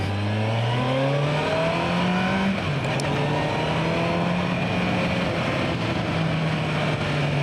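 A Kawasaki Versys 1000 motorcycle is ridden with its engine running throughout. It revs up through gear changes, with a drop in pitch at each shift, and its steady close drone is mixed with wind noise. No one speaks.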